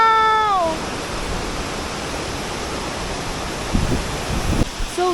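Broad, steady roar of Tumpak Sewu waterfall in East Java, a continuous wash of falling water heard close and loud; a brief voice sounds at the start and faint knocks come near the end.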